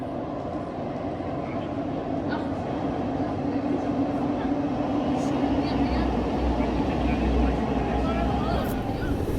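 A Milan metro train runs with a steady low rumble and rattling rail noise throughout, with voices talking faintly inside the carriage.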